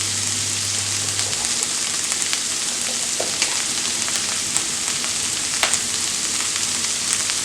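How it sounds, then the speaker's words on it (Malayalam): Onions sautéing with salt in a pan for an ivy gourd fry, a steady close sizzle with light stirring clicks throughout and a low hum fading early on. "സവാള നന്നായി ഒന്ന് വഴറ്റി കൊടുക്കുക"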